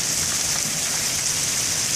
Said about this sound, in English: when it rains this hard, it just doesn't soak into that ground